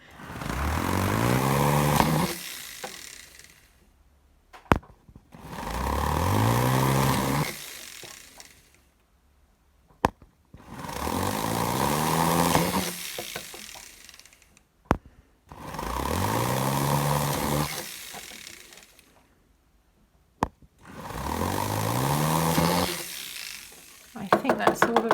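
A drill bores through copper sheet to make a pierced snowflake, running in five separate bursts of about three seconds each, its motor whine rising in pitch at each start and then cutting off into near silence.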